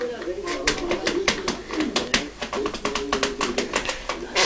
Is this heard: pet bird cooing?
yes